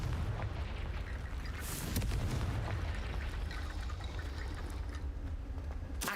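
Confringo blast spell exploding in the video game Hogwarts Legacy: a loud, sustained roaring rumble with a sharper burst partway through, dense and continuous throughout.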